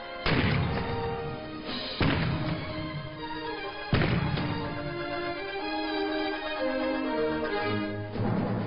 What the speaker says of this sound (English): the battery of Fiji military forces fired a salute of 21 guns